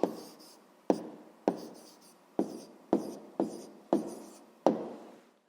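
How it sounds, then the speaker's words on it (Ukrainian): Pen writing an answer by hand on paper during a sixth-grade maths exercise: eight separate scratchy strokes in a steady rhythm, close and fairly quiet, with no talking. "Записуємо Амосов"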